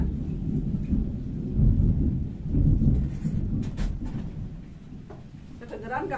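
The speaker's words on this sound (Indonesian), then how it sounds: "Kedengeran nggak petirnya gluduk-gluduk?" Low thunder rumbles roll through steady rain, swelling twice into louder peaks before easing back, with a few faint higher clicks and a brief voice near the end.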